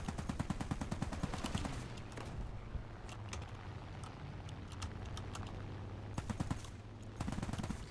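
Rapid bursts of aircraft machine gun fire in War Thunder, dense rattling volleys at the start and again near the end, loud and close with steadier engine drone between them.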